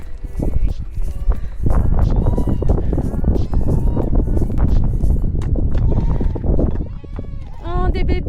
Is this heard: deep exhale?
no